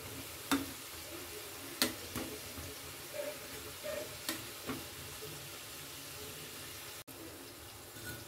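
Sattu-stuffed Bengali khasta kachoris frying in hot oil, a soft steady bubbling sizzle with a few sharper pops and crackles, fairly faint and close, no talking.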